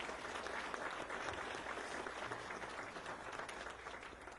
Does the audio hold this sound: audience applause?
yes